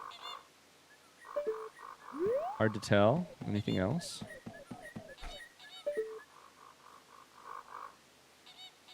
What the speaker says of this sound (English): I swear I'm hearing a, like, kind of croaking noise.